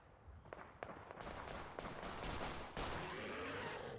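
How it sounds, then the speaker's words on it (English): Rapid bursts of gunfire crackle at a moderate distance in Fallout 4, with sharp individual shots over a continuous background of battle noise and no speech. "Maybe try and investigate this gunfire a little bit."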